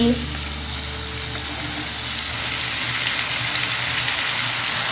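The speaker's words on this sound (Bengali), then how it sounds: "এখন আমি এতে সেদ্ধ করে নেওয়া বুড়িটা দিয়ে দিচ্ছি" Boiled beef tripe goes into frying spices, giving a loud, dense, steady sizzle throughout with a brief thud and stirring at the start; no one speaks.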